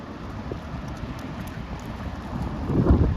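Strong gusty wind of about 50 mph blasts across an open spot in Pullman, Washington, a steady low roar with buffeting microphone rumble that swells into a heavier gust near the end.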